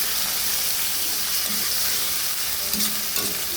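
Liver sautéing in a pan for pancit canton, a loud, dense, continuous sizzle with occasional scraping from stirring, close-up and uninterrupted by speech.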